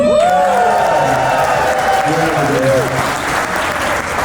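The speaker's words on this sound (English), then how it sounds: "I'm going to have a little whoop and cheer for these groups of big brothers" Wedding guests whoop, cheer and clap loudly together at a reception, a dense burst of applause with rising shouts that carries on steadily for several seconds.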